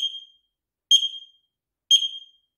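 An X-Sense XS01-WR mini wireless smoke detector gives three short, shrill test beeps about a second apart, loud and close, with silence between them and no talking.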